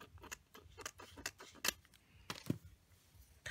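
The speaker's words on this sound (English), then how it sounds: "And then I'm going to take my scissors." Scissors snip through a paper weekend banner from a planner kit, several sharp clicky cuts in an uneven rhythm, close and quiet with no talking.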